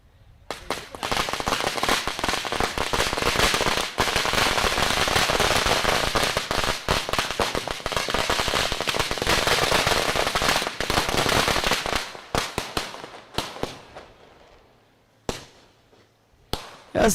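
Strings of firecrackers crackle in a dense, loud rapid-fire burst as an MLA arrives at a 40-plus masters cricket match, then thin out into scattered pops and bangs near the end.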